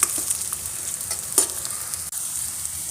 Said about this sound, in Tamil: இதை நல்லா ஃப்ரை பண்ணி எடுத்துக்கலாம் நல்லா ஒரு கோல்டன் ப்ரௌன் வரணும் அது வரைக்கும் வதக்கி எடுக்கணும்